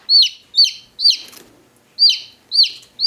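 A newly hatched chick, only a few hours old, peeps loudly and close up, giving a series of sharp, evenly spaced high-pitched cheeps.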